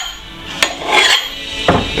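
A file is drawn at an angle along the edge of a cheap TEMU hatchet, making two sharp metallic rasping strokes close up against a steady background hiss.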